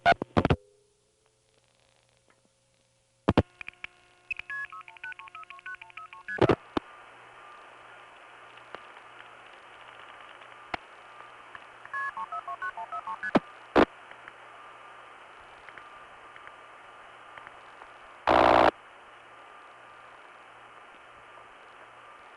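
Tones and switching signals pass through old 1980s telephone exchanges on a call routed from Villa Ridge, Illinois via St. Louis and Marion to Cairo: sharp clicks, steady hum and line noise, short tone bursts, and a loud ring burst near the end.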